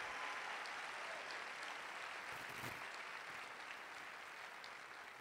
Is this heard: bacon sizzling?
no